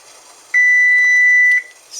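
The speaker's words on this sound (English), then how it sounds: "Second time for the timer." A kitchen timer beeps once, a single sustained high electronic tone lasting about a second, clear and close, while tea is being brewed for homemade kombucha.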